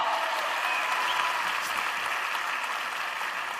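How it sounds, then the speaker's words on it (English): Steady, dense applause from an audience at a motivational entrepreneurship talk, even and sustained throughout with no pauses. "Let's clap it up for him"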